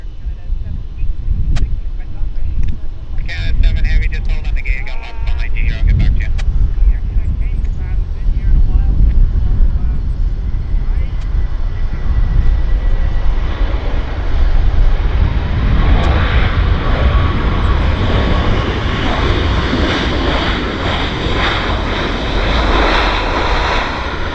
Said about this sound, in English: We can get the Austin, Texas landing, I think, because it's almost here.